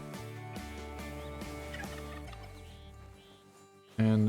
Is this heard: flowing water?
no